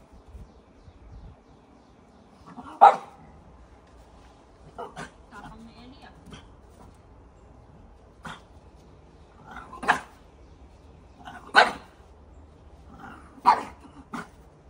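Eli, a one-eyed French bulldog, and neighbours' dogs bark in sharp single woofs spaced a few seconds apart, some louder and closer than others, with quiet talk in the background.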